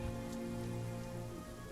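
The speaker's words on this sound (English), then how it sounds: "just the sound of the rain hitting the ground and hitting against the skin on top of your head" Steady rain patters on the ground in an even, close hiss with no break and no voices.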